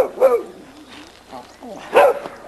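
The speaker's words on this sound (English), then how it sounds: "this is the little dog we call Ada" Small dog called Ada barking in a backyard, two short bursts of yips near the mic with quieter sounds between.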